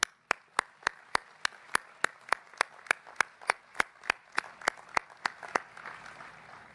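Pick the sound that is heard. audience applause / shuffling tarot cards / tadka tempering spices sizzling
audience applause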